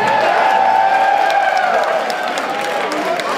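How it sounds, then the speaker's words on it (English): Audience at an outdoor liberty festival in New York cheering and whooping, a loud sustained roar of voices with scattered claps, continuous throughout. "I heard somebody cheering"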